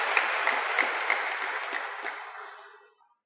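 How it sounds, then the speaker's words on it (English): An audience at a talk claps together in a sustained, fairly loud burst of applause that gradually thins and fades out over about three seconds. "So, all those who clapped,"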